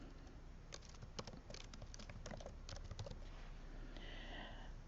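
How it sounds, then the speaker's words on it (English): Rapid typing on a computer keyboard, a steady patter of close, crisp key clicks that comes in dense bursts, with a brief pause near the end. "and then just start typing."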